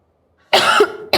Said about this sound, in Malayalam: ഓ, നല്ല ചുമയുണ്ടല്ലോ.